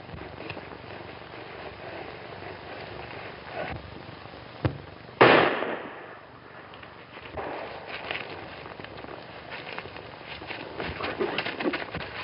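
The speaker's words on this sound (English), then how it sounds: "I tell you, I heard a shot." A single sharp gunshot cracks out in a quiet outdoor western scene, loud and sudden, decaying quickly, with faint rustling and background ambience before and after.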